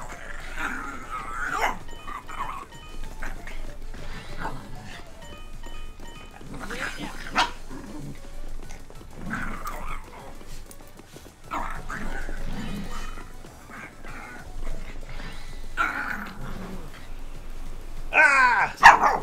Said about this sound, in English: There are dogs literally under my feet right now.